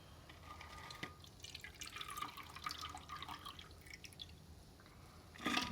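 Meltwater from broken-up ice pours and splashes out of an insulated cup, with a steady trickle, scattered drips and a louder gush near the end. No one speaks.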